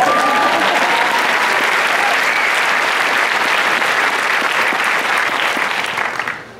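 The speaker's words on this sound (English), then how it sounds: "Cheers and applause." A high school graduation crowd claps and cheers loudly and continuously, a thick wall of applause with scattered shouts that holds steady for about six seconds before fading out at the end.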